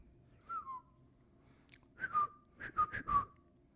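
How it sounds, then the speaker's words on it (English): Someone whistles a short, halting tune: a single note, a pause, then a few quick pitched notes, close and clear against quiet. "bad whistling. I'm a bad whistler."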